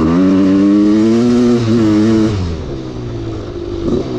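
A Kawasaki KX500 dirt bike engine idles close by with a loud, rough, steady drone that wavers slightly in pitch and eases off a little midway.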